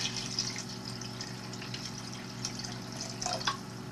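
Water poured into a cooking pot while preparing Hungarian sauerkraut with meatballs, a steady close liquid pour and splash that runs throughout, with a few brighter drips and sloshes near the end.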